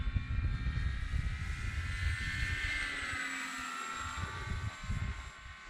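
Radio-controlled Hawker Hurricane model warbird on a 4S battery flying overhead, a thin electric motor whine rising and falling in pitch as it passes through a turn, fairly distant and faint.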